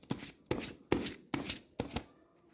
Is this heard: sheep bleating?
no